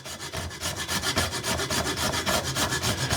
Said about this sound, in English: I'm not using super long strokes, and it's still grating up the nutmeg quite easily.